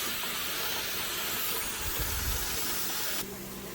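Steam hisses continuously from a pressure canner vent, a loud steady rush that drops slightly in level near the end.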